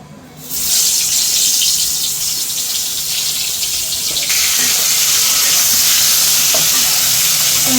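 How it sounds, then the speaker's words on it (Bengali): Pointed gourd pieces frying in hot oil in a wok give a loud, steady sizzle that starts abruptly and keeps a bright, hissing roar to the end, with faint stirring. "পটল ভাজি করার জন্য তেল দিয়ে দেবেন সে কড়াই গরম হওয়ার পরে"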